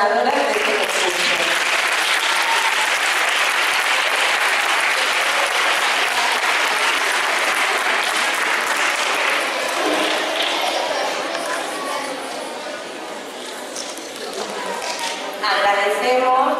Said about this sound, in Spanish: Vamos a dar ahora un fuerte aplauso a las 4 ganadoras de este concurso.